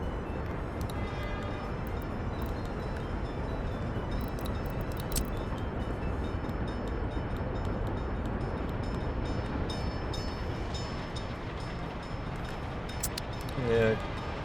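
Rumbling rail traffic from the transport strategy game Workers & Resources, a steady, dense train-car noise running throughout at constant level, with a few brief clicks near the end.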